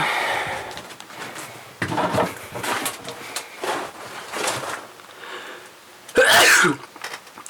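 A single loud sneeze bursts out near the end, close and sharp, after several seconds of rustling, shuffling and knocking in a plank-built entryway of a village house.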